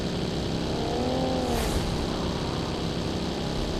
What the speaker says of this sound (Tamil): ஒரு வண்டி வருது.